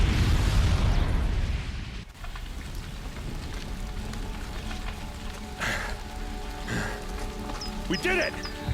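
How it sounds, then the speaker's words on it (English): A bomb set off by a booby trap in Horizon Zero Dawn bursts with a loud, broad roar at the start, then fades into a rumbling, crackling aftermath with scattered debris pops and faint game tones. "the booby trap on the bomb downstairs is gonna get set off"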